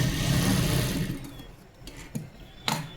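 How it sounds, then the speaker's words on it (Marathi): Domestic sewing machine stitching a tuck on a yoga-strip blouse, a dense loud whirring run for about a second that stops, followed by quieter handling clicks and taps. "हा तिसरा पण टक्स आता शिलाई करून घेतला"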